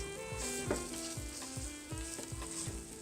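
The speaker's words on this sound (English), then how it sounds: "Get that butter and olive oil" Veal sizzles loudly in butter and olive oil in a pan, a dense crackling fry close to the mic, with rhythmic scraping or tapping pulses about twice a second and no voices over it.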